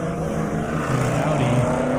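An Audi RS3 runs at a half-mile airstrip drag race, its engine droning at a steady, moderate distance and rising in pitch toward the end.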